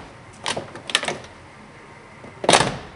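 An old truck door with 280,000 miles swings and latches with a couple of soft knocks, followed by a firmer closing thump a moment later, close by and otherwise quiet.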